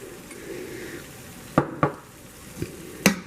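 Seasoned ground beef for Jamaican beef patties cooking in a pan with a low background sizzle, broken by several sharp utensil clanks and scrapes against the pan as the meat is stirred and mashed.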